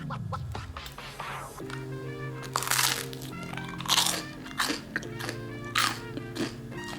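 Crisp crunching bites into toasted fresh ciabatta spread with homemade cultured butter, several loud close crunches spaced a second or so apart over a steady low background hum.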